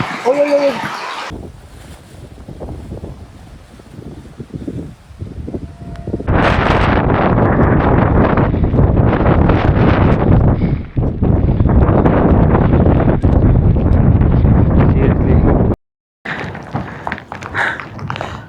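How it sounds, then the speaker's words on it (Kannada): Strong wind roars loudly across the microphone in a sustained, buffeting rush high on Netravati Peak during a May trek, cutting out briefly near the end, with a voice heard faintly at the start. "ಯಾವ ಲೆವೆಲ್ ಗಾಳಿ ಬೀಸ್ತಿದೆ"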